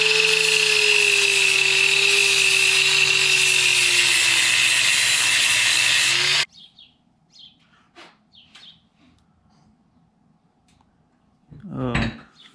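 Power grinder clearancing a weld on an LS2 engine part, a loud steady high-pitched whine for about six seconds that then stops abruptly, leaving faint clinks and a short burst of noise.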